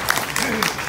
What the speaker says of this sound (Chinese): 大家鼓掌一下吼